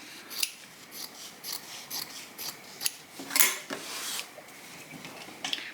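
Scissors snipping off the selvage of a fabric, a series of close, crisp metallic cuts and rubbing blade scrapes spaced irregularly over several seconds.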